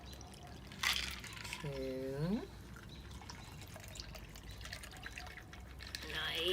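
An El Floridita cocktail pours from a shaker into glasses, a soft trickling stream with gurgling, rising tones as the glass fills, while a person briefly counts aloud nearby.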